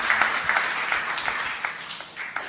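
A church congregation applauds, a brief spell of scattered clapping from many people with a soft, somewhat distant, reverberant quality.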